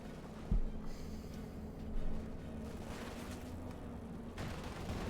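Sporadic gunfire from the World War II strategy game Company of Heroes 2, with a machine gun team in action, popping faintly at a distance over a low, rumbling battlefield ambience.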